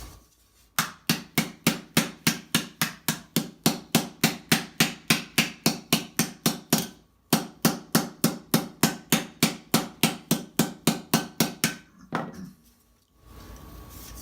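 A hammer strikes a metal armor plate, curving it into shape with sharp, ringing blows in a fast, even rhythm, roughly two per second. There is a brief pause midway, then a second run of strikes, and the blows stop near the end.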